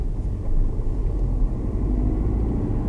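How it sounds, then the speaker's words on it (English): Car pulling away from a standstill on a hill start during a driving test route, a steady low engine rumble and road noise close by, no talking. "release my handbrake, and move off smoothly"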